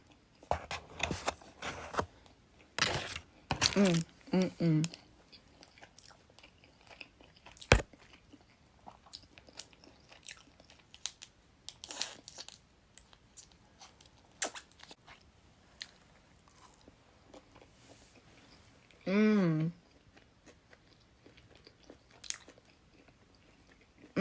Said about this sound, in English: pretty sure this is the volcano roll